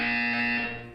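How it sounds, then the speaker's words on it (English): A loud, sustained electronic buzzer drones steadily in a Portal 2 test chamber, a harsh tonal alarm lasting the whole moment with no talking. "You will hear a buzzer."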